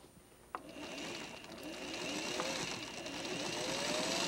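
A sewing machine stitches four-patch quilt pieces together, starting after a brief quiet moment and then running as a faint, steady, close mechanical whir with a continuous hum.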